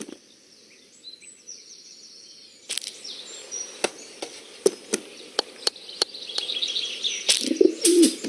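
Birds being fed popcorn in a cartoon scene, with a burst of sharp wing flaps and snappy chirps arriving one after another, growing busier toward the end over a quiet background.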